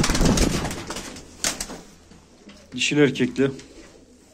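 A pair of smoky-grey domestic pigeons coo in short bursts near the microphone at a live pigeon auction, with someone talking over and between the calls.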